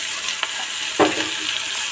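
Ginger, onion, garlic and tomato frying together in hot oil for a chicken fry, a close, steady sizzle with a couple of brief stirring scrapes.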